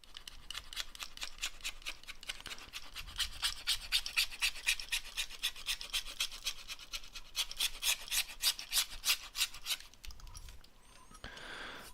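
Blank PCB board edge is filed by hand, a steady run of rhythmic rasping strokes close up lasting about ten seconds, then a brief rustle as the work stops.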